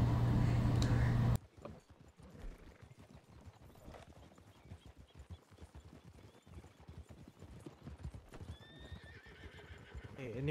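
Horses clip-clop at a steady trot and whinny in a video game, hoofbeats running through the whole stretch with neighs rising near the end, while people talk over them.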